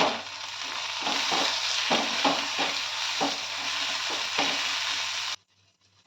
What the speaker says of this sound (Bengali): এখন দিয়ে দেবো লঙ্কার গুঁড়ো, ভাজা গুঁড়ো মশলা আর গরম মশলার গুঁড়ো।